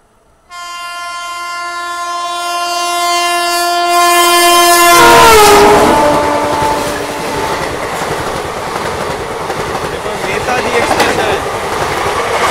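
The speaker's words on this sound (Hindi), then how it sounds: "और यहाँ हमारी ट्रेन को पड़ने वाला है ओवरटेक कंचन कन्या से" A Kanchan Kanya express train overtakes on a parallel track: a long, loud multi-tone horn builds and cuts off, then a close roaring rush of passing coaches with rhythmic wheel clatter continues to the end.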